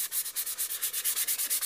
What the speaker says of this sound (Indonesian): kita amplas aja dikit-dikit. Kita amplas.